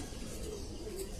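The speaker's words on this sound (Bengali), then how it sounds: "এগুলো হচ্ছে খাকি কবুতর।" Khaki pigeons cooing in a loft, low soft coos rolling steadily and close throughout with no speech.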